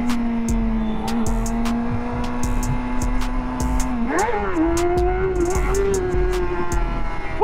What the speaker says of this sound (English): Nothing like waking up and popping wheelies, my boy